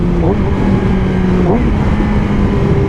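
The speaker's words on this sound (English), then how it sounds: "On every bike, you can rev match downshift." Motorcycle engine blipping during a rev-match downshift, a steady mid-pitched drone that steps up in pitch about halfway through, loud and continuous with wind and road rumble and some talk over it.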